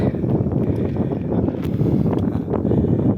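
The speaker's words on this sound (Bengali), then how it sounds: "ও ওয়াও, অসাধারণ বাতাস" Steady wind in Marinza Valley rushes across the microphone, a continuous rumbling buffet with faint rustling and no speech.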